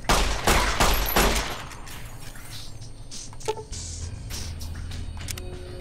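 Video game gunfire from Fallout: New Vegas, with loud rapid bursts at the start, then scattered single shots and a softer, sustained rumble afterward.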